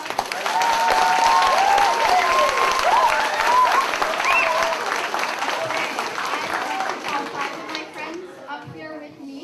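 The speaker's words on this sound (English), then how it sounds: "Can we have one more round of applause?" A round of applause fills a first grade academic assembly, with dense clapping from parents and children mixed with excited children's voices and squeals, gradually thinning and fading out toward the end.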